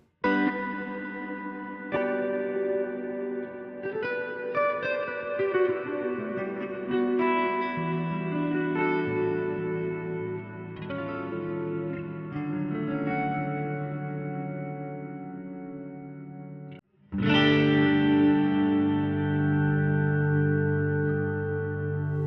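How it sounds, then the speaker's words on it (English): Clean electric guitar chords run through a Line 6 Helix plate reverb, each strum ringing into a long smooth wash that slowly decays, with a fresh loud chord near the end blooming into the same reverb tail, no talking. "Let's start by showing you what the reverb at the end sounds like. It's just a very clean plate verb."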